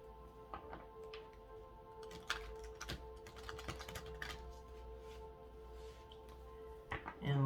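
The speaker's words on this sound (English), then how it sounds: "So one more shuffle here." A deck of tarot-style reading cards is shuffled once more, giving a run of quick, crisp riffling clicks and flutters close to the microphone, ending with a louder flurry.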